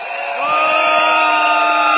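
A rally crowd cheers and whoops loudly and continuously at an evening political event, with sustained shouting voices and steady high-pitched cries.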